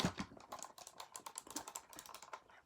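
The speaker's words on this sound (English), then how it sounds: "it's pretty much clicky" Fingers type quickly on a ChonChow clicky mechanical keyboard, a close run of crisp uneven clacks with no talking.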